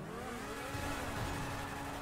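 A car engine revving in the GTA video game, a rather faint, continuous whining drone whose pitch rises and wavers for about two seconds, with no talking over it.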